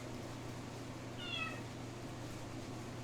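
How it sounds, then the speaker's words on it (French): A single short cat meow rises briefly over a steady low background hum, fairly faint and heard alone. "Je suis désolée pour mon chat qui arrête pas de miauler."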